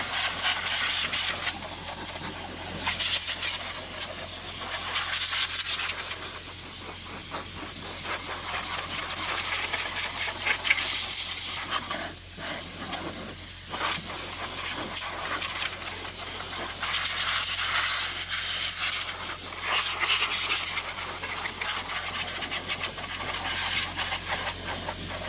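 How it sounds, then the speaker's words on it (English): Compressed air from an air hose blasts through the engine bay of a 2006 Ford Freestyle, a loud continuous hiss that surges and dips slightly as the nozzle moves, with no talking over it. "So now he's got the air hose. I'm gonna hose it out."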